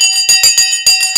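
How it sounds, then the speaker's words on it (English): A bell rung to open the stock market session clangs in rapid repeated strikes, about seven loud, bright metallic rings in quick succession, each ringing on briefly, with no talk. "it's time to ring the Sensei bell"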